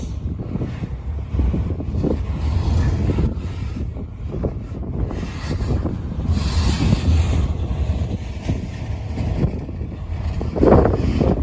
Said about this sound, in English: This is a long train though.